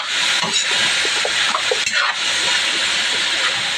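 Bamboo shoots (labong) hiss and sizzle in a hot pan with sautéed onion, a steady loud frying hiss broken by soft scraping of stirring.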